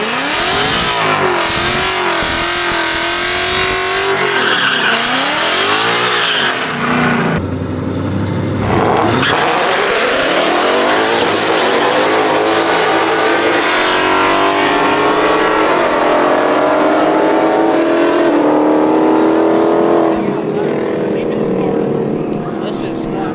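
On a night drag strip, a car launches on poor tires running E85, engine revving hard as the tires spin and rise in pitch through a long pull. The sound is loud and sustained, with voices nearby.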